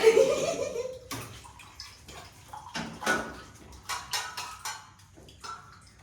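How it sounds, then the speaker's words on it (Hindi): Water is poured at close range: a short splashing pour at the start, followed by light clinks and taps. "मैंने भी पानी डाल दिया है"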